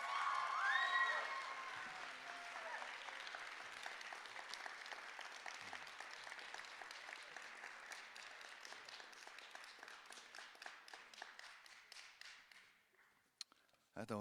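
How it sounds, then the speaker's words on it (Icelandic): Crowd applause after a band's set at the Músíktilraunir music contest qualifying night, dense clapping with a few whistles early on, gradually thinning into slower, more separate claps before trailing off. "Þetta var vel klappað."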